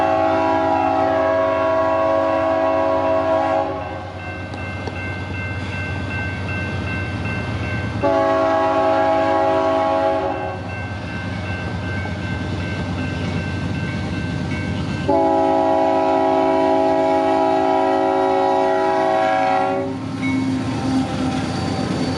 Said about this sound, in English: As I see the train approaching slowly, I see the smoke has significantly got worse